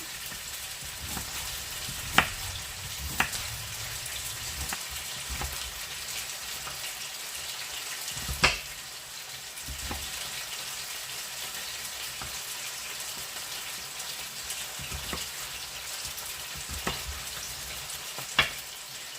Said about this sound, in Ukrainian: Нам потрібно його швидко смажити з двох сторін.